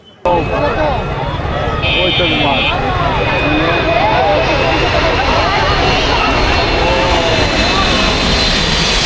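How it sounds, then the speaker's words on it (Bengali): Airliner passing low overhead on approach to land near Dhaka in Uttara, a loud, steady broadband engine roar that holds for the whole stretch, with voices talking underneath. "আমরা আরেকটি বিমান দেখতে পাচ্ছি"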